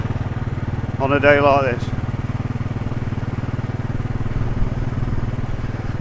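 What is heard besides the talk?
Royal Enfield Desert Storm motorcycle engine on test ride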